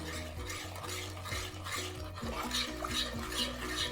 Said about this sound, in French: on finit de délayer avec le lait végétal